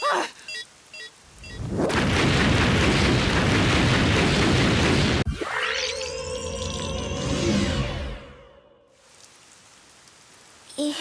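A bomb goes off in the video game Rain Code: a long, loud roaring blast of broadband noise, then a swelling tonal sweep and a rumbling tail that fades away.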